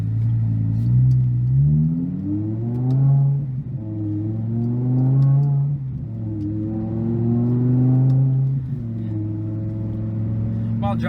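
A 2007 BMW M6 V10 engine revs hard, its pitch climbing then dropping at each gear change, repeating several times, loud and close from inside the car.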